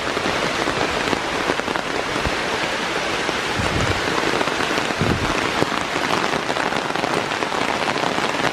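Steady rain pours through a forest at the Ohio River Bluffs Nature Preserve, a dense, even hiss of drops on leaves and ground with occasional heavier patters, no voices.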